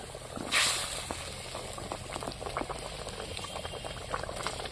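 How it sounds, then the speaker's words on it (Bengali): Spicy fish curry gravy boiling in a pan, a continuous bubbling and popping close by with small spitting patters, with no talking. "ঝালটা সুন্দরভাবে ফুটে গেছে ফুটছে"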